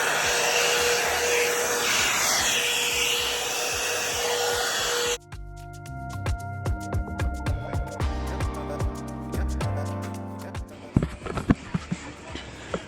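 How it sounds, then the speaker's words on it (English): A hair dryer blows loud and steady on box braids for about five seconds, then cuts off, leaving clattering and shuffling household noises nearby. "I just decided to blow dry it"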